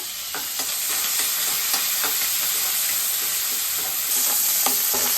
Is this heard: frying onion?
yes